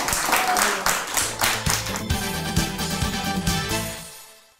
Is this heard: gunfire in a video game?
no